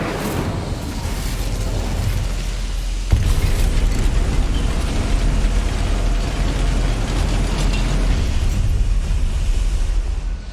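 A fire spell bursts into a sustained roaring whoosh in the Hogwarts Legacy video game, with a sharp onset partway through and loud broadband noise continuing steadily to the end.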